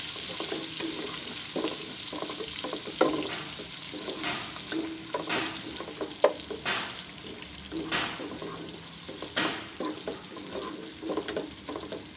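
Onions sizzle in a hot pan, lightly frying for bhuna khichuri, while a utensil stirs and scrapes them in irregular bursts, fairly close and moderately loud.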